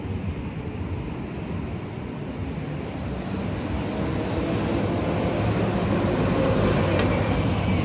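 A city bus passing on a street, a broad rumbling engine roar that swells gradually louder as it approaches, with no talking.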